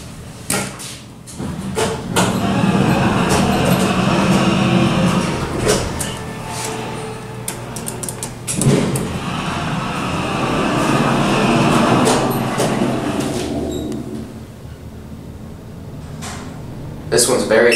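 Montgomery elevator motor at a Macy's in Westfield Valley Fair Mall, running badly with a loud, continuous rumbling drone and clattering under people talking throughout.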